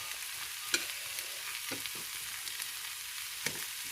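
Apple pieces sauté in a pan, a faint, even sizzle with a few soft stirring taps scattered through it, quiet and without talk.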